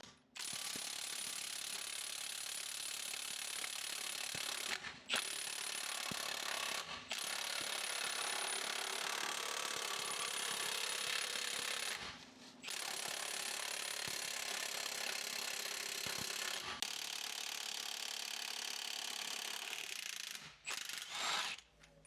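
A Milwaukee power tool strains against a stubborn bolt during engine removal from an Opel Astra H, sending out long loud bursts of rapid ratcheting impacts broken by brief pauses.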